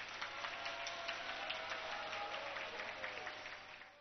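An audience applauds at a Patanjali family gathering in Leicester, United Kingdom, a steady crackle of many hands clapping together that holds for several seconds before tapering slightly at the end.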